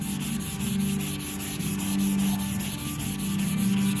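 Hand block sanding of a 1970 VW bay window bus body panel in a cross-hatch pattern, a loud, continuous abrasive rasping with regular back-and-forth strokes and a low humming undertone, no talking.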